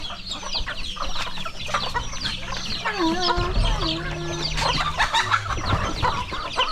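Free-ranging chickens and turkeys on a rural Philippine farm cluck and chatter continuously during feeding with laying mash and corn, a dense flock close by with overlapping calls and no talking.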